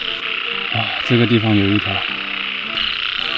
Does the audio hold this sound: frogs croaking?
yes